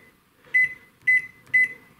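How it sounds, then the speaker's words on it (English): An inverter microwave oven's keypad gives three short, bright electronic beeps at an even pace, each followed by a faint tail, close and clear against a quiet room with a low hum. "I'm gonna attempt to cook it in this inverter microwave."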